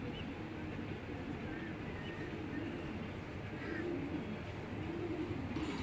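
Racer pigeons coo softly and repeatedly amid a dense, steady background rumble, with the low calls rising and falling faintly through the noise.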